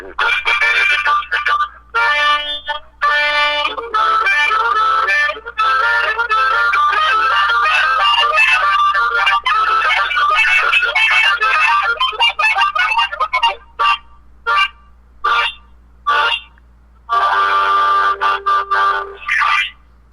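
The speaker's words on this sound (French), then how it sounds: "je tiens le téléphone dans une main, puis je joue l'harmonica avec l'autre" A harmonica plays a blues tune over a telephone line, thin, bright and loud, in continuous phrases with short breaks, then choppy bursts broken by gaps, with no talking.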